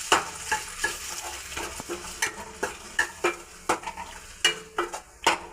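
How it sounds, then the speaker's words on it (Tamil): Beaten eggs stirred in a pan over full heat for egg rice: a soft sizzle under a series of sharp, regular spatula scrapes and taps against the pan, fairly quiet and close. "இப்போ அதை நல்லா கிண்டி விட்டுக்கோங்க."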